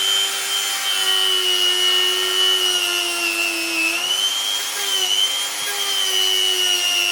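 A grinder takes material off a rear bike wheel fitting, producing a steady, loud, high-pitched whine with slight pitch dips as the load shifts, heard alone without talk.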